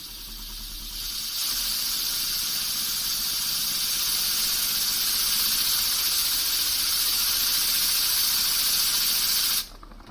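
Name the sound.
3D printed air engine running on compressed air, hissing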